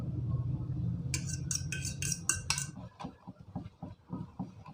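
A utensil clinks against a bowl while beaten egg is stirred into a mixture with curry powder, first rapid light taps and then a steady rhythmic scraping and sloshing at close range.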